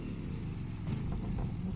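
Koenigsegg Jesko hypercar in The Crew 2 video game, a deep, steady engine rumble held for under two seconds, with a slight swell near the end and no voices.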